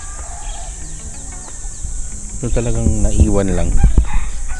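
Chickens clucking with a rooster crowing at Ilug Kamalig nature campsite, the fowl calls rising in the second half over steady outdoor ambience, with a person speaking nearby.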